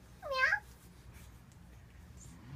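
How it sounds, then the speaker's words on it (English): A single short cat meow rises and falls near the start, fairly close and clear, then a quiet room hum continues with nothing else. "How's a kitty cat go?"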